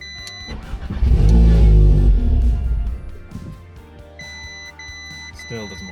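A crashed Audi S3 cranks over without firing: a close starter-and-engine churn swells for about two seconds and fades, with faint electronic chimes before and after.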